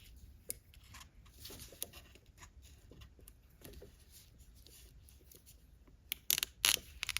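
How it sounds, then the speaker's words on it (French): Scissors cut through material in soft, irregular snips and rustles close by, ending in a few sharper, louder cuts. "Ça a l'air de bien se couper."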